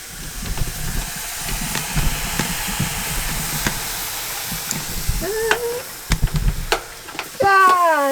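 Maple syrup boiling hard on a stove for maple sugar candy, a steady bubbling hiss with sizzles and light stirring clinks close by. A few brief voiced sounds cut in near the end.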